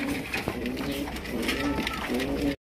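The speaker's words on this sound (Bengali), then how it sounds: "এটা হচ্ছে মাক্সি রেসার কবুতর" Maxi racer pigeons coo steadily up close, a low repeated murmur carrying across the whole stretch with faint voices mixed in underneath.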